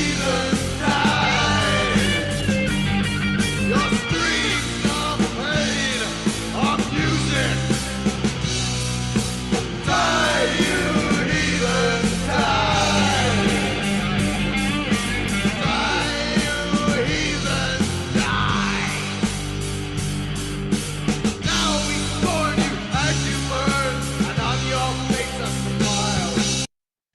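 Slow, heavy, doomy NWOBHM heavy metal track playing from vinyl, dense distorted guitars and drums with a yelled, bellowing vocal running loud and continuous throughout before cutting off abruptly at the end.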